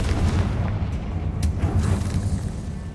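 The Confringo fire spell from the Hogwarts Legacy video game goes off as a deep rumbling explosive boom that sustains for a few seconds, loud and close, with a couple of brief crackling bursts.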